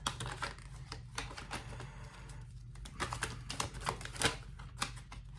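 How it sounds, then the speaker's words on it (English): Tarot cards are flipped and shuffled by hand in a rapid run of crisp snapping clicks and papery rustles, close and fairly quiet, with no talking. "the cards are just flipping all over"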